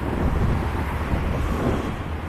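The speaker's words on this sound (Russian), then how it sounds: "ветер дует такой неприятный." Wind buffets a microphone outdoors in a steady, low, rumbling roar that fills the whole stretch, loud and unbroken, with no one talking.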